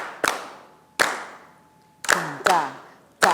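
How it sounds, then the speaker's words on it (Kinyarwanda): Five sharp hand claps ring out alone in a slow, uneven rhythm, each one crisp and close with a short fading tail, as a beat is kept by hand. "Turakoma amashyi."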